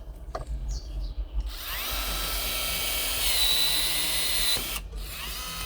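A DEWALT 20V cordless plastic tubing cutter whirs steadily for several seconds while cutting through schedule 80 plastic pipe, close and fairly loud, starting and stopping abruptly, with no one speaking.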